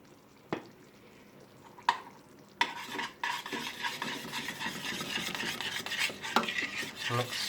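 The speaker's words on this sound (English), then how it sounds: "mix that through. Thoroughly. Get any lumps that you can see" A spoon stirs a seasoned ratatouille sauce, with salt and white pepper, in a pan. A few sharp knocks come first, then steady close scraping and swishing runs through the rest, with no voices.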